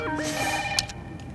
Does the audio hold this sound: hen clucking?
no